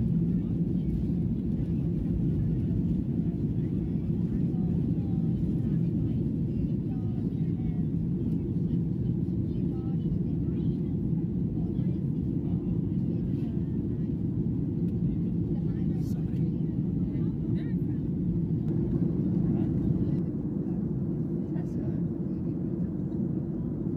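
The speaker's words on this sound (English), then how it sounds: "we're just taxiing to the runway now" Airliner cabin during a taxi to the runway, with a steady loud low engine rumble and drone filling the whole stretch, constant and close, without clear speech.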